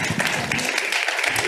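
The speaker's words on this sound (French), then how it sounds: "Merci d'applaudir Geneviève Ponce et Albert Fabiche." A conference audience applauds in a short, dense burst of clapping that fills the room, loud and steady with no break.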